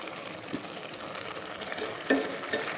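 Carrot halwa being stirred and dried in a pan over high heat, a steady soft sizzle with a few scraping stirs of the spoon against the pan, close and alone.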